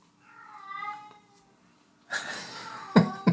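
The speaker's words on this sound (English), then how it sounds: "My cat, she's very upset that she can't go outside." A house cat meows, upset at being kept indoors: a soft drawn-out meow, then after a pause several louder, harsher cries and snorting bursts close by, with no talk over them.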